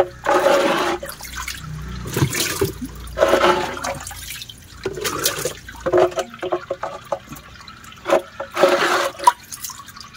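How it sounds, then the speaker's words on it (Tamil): Water gushes and splashes into a snakehead fish tank in uneven bursts, loud and close, with short pauses and trickling between pours. "தண்ணி உள்ளே போயிட்டே இருக்கட்டும்."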